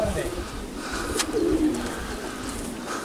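Racing pigeons coo softly at a loft amid background murmur and faint voices, the low cooing rising briefly in the middle.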